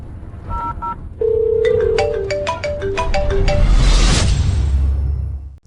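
Telephone call ringing, with a short series of electronic dialing beeps followed by a melodic ringtone of repeated tones and a rising swoosh near the end, loud and close with no talk.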